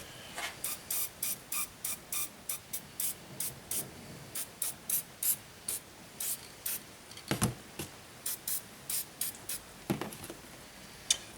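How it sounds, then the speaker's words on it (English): Short hissing bursts of gun cleaning spray onto a 1911 A1 .45 ACP pistol repeat in a steady rhythm, close by, with a few louder sprays near the end and no voices. "This spray that I'm using here"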